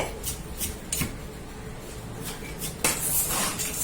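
Ceramic and steel plates clink and clatter as puri bhaji is plated at a hotel, a few sharp knocks followed by a louder rattling scrape near the end.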